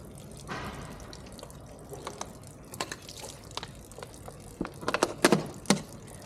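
Water dripping and splashing while a motorcycle radiator cap is rinsed during an antifreeze change on a Pulsar RS200, with scattered drips that build into louder, closer splashes toward the end.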